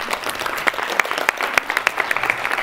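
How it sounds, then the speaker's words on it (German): Audience applause at a talk in a Munich hotel, a steady wash of many hands clapping with sharper individual claps standing out, fairly loud and continuous throughout. "Ein Applaus bitte."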